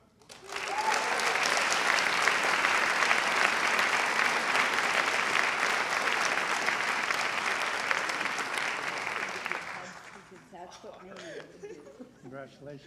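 Audience applause at a high school awards night after a scholarship winner is announced: sustained dense clapping for about nine seconds before tapering off, followed by scattered chatter.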